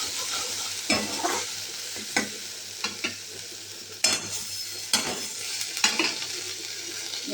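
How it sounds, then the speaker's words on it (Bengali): Spice paste for khichuri with turmeric and salt frying in a pan, a steady close sizzle broken by several sharp scrapes and knocks of a spoon stirring against the metal, no voices. "সমস্ত মশলাটাকে ভালো করে ভেজে নেব।"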